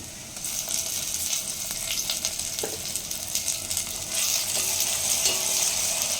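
Ginger garlic masala frying in a hot pan, a steady close sizzle and crackle with occasional stirring scrapes, no talk.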